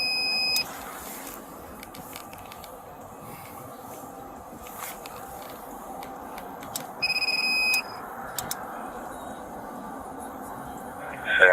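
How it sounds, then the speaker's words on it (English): Electronic beeps sound in short repeated bursts over a steady background hum, fairly clear and intermittent, heard alone without talk. "That's so annoying, the beeping."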